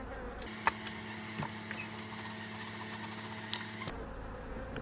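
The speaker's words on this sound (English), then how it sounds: "And there's a ton of bees in here." A dense, steady drone of many honey bees buzzing close by inside an open hive, with a couple of faint clicks, no voices.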